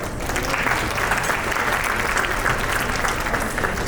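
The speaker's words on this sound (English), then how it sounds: "Give yourselves a round of applause." Steady audience applause at a fundraising event, a dense, even clatter of many hands clapping throughout without pause.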